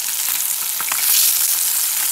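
Sea bream sizzling steadily in a fish pan, a loud and continuous close-up frying hiss with a few faint stirring clicks and no talking.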